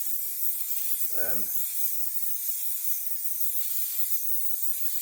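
A steady, close hiss of a spray nozzle spraying down onto a roof runs throughout, interrupted briefly by a short voiced sound near the start.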